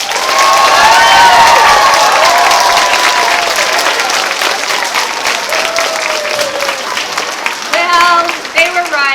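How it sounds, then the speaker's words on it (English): A crowd applauds after a 5th grade school history play, loud and close, with cheering and excited voices mixing in; the clapping thins toward the end as chatter and a voice rise over it. "Let's give them another round of applause."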